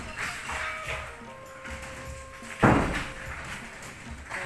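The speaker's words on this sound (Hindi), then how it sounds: "अभी काफ़ी तोड़ फोड़ हो रही है" Workers breaking through a ceiling during demolition produce a single heavy thud amid a low background of distant knocking and rumble.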